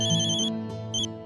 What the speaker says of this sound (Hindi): अभी किसी का फोन आ गया।